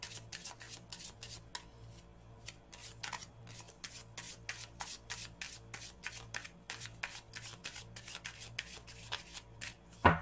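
Oracle cards are shuffled by hand in a quiet room, a long run of soft riffling and rubbing strokes in an uneven rhythm, with a few sharper slaps as cards are drawn near the end.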